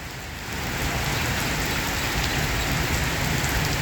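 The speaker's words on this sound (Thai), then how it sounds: "บรรยากาศครับฝนตกเมืองสุรินทร์ครับพี่น้อง" Steady rain falls heavily and continuously in Surin, Thailand, during a tropical depression storm, a dense hiss of drops drumming on surfaces without pause.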